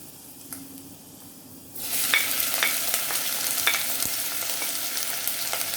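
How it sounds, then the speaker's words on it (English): Onion drops into hot oil and a loud sizzle erupts, crackling steadily close by with occasional stirring clicks. "If it starts sizzling, you know the oil is ready."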